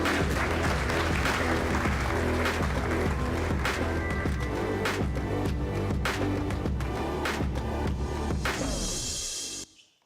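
A large summit audience at CV Summit 2022 gives a dense, loud, sustained round of applause welcoming the president of Zug, Dr. Karl Cobalt, which fades out quickly in the last second.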